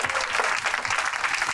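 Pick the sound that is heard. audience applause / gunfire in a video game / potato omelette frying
audience applause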